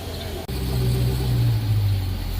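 A Dodge Charger Daytona 392 idles with a steady low engine rumble at a collision repair body shop as it is backed up, loud and close, with a brief dropout near the start.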